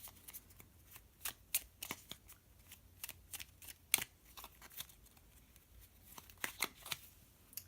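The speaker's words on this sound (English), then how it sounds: "I would suggest doing the overhand shuffle" Crisp, papery riffling of an oracle card deck being overhand shuffled by hand in short bursts, with sharp slaps and flutters repeating irregularly, close and fairly quiet.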